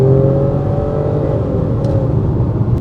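A 2023 MG ZS-T Excite SUV accelerating, a loud steady engine drone with rising whir heard from inside the cabin, continuous and close with a faint click or two, no voices.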